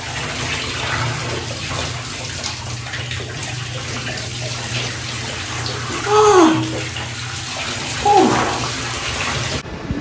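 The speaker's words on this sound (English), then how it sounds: "It's quite a nice shower," A shower runs in a cramped bathroom, steady spraying water hissing close by throughout, with a couple of brief squeaky sounds partway through.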